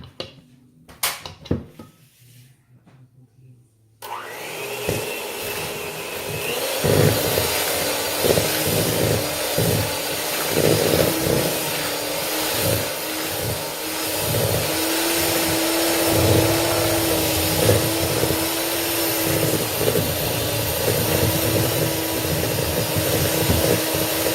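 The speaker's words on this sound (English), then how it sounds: "Just to play it safe, I'm going to go one more time with the mixer." An electric mixer whirs steadily through German spritz cookie dough in a home kitchen, starting after a few seconds of quiet handling knocks and running loud and continuous with a slightly wavering motor tone to the end.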